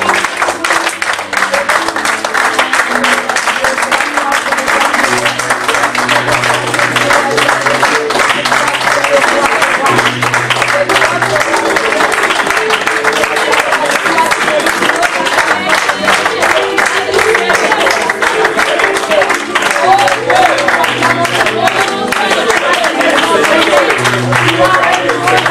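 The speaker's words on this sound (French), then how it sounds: "on peut acclamer pour le Seigneur" Church congregation at a worship service in Chartres applauding and cheering, a steady dense wash of clapping and crowd voices that holds for the whole stretch with music or singing running underneath.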